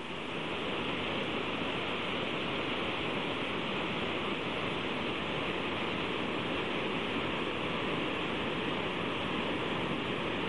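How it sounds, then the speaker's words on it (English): Grand Falls on the Little Colorado River pours in a steady, dense roar of falling water, broad and unbroken from start to finish with no voices. "Grand Falls on the Little Colorado River."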